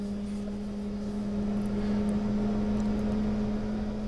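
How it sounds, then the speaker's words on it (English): A helicopter rotor spools up in the X-Plane 10 flight simulator, giving a low steady engine hum with a droning tone under broadband whooshing noise, constant and moderately quiet throughout. "Rotor spooling up. Oh, yeah, I love that sound, baby."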